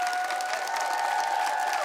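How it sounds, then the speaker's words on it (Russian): Steady applause from a concert hall audience after a classical music performance, a dense even wash of clapping held throughout without voices. "аплодисменты, звучащие в зале"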